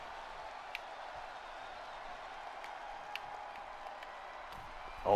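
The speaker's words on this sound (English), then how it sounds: "Crowd getting into this match." Arena crowd noise from a WWE 2K20 wrestling match, a steady low roar of cheering and murmur running throughout at moderate level, with a few faint sharp pops and a brief louder swell at the very end.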